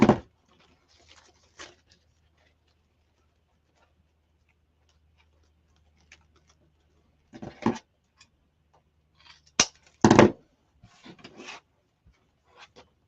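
Scissors cut dovetail ends into ribbon for a DIY Mardi Gras King Baby wreath: a quiet room with a few faint taps, then a short cluster of crisp, close snips near the end.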